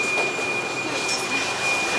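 A Budapest metro train on line M4 runs with a steady, loud rumbling roar and a thin high whine held throughout, heard from inside the car.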